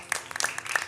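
Brief burst of applause from a group of children at a gathering, a short patter of clapping heard close.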